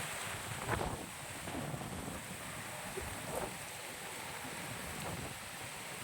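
Strong wind buffets the microphone outdoors in a continuous loud rumble and hiss, with gusty swells rising and falling throughout and no voices.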